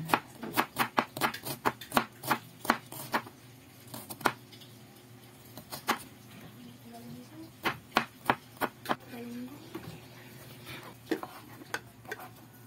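Onion and garlic being sliced with a knife on a board for an oyster dish, a quick run of sharp, close chops in bursts with short pauses, alone without talk.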